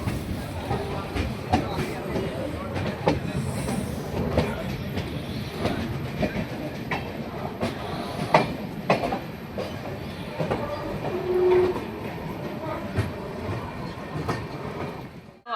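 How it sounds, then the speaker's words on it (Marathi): A passenger train travelling through the Konkan region between Chiplun and Khed rolls along with a continuous rumble and rhythmic clickety-clack of wheels on the rails, with voices faintly audible inside the carriage. "ही ट्रेन फायनली सुटली आहे"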